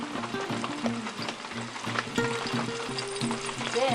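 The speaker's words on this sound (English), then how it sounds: "Do you see that sizzling?" Oil sizzles and crackles steadily in a hot pan, a bright hiss running throughout alongside a tonal melody in the background.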